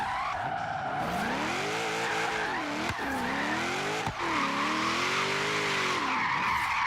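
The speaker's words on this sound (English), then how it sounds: "A little bit of a jump drift through the intersection there." A car drifts through an intersection with a jump drift, tires skidding and squealing loudly and continuously over a revving engine whose pitch rises and falls, close and without talk.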